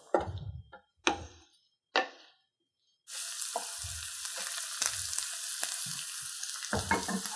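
Potatoes and scallions fry in a pan for a smoked salmon and potato frittata, giving a steady close sizzle with soft crackles after a few opening knocks and clatters.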